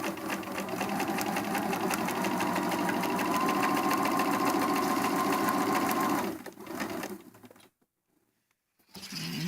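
A sewing machine stitches a travel pillowcase in a fast, steady, close whirring run, then stops, with brief shuffling before near silence and a short burst of sound again.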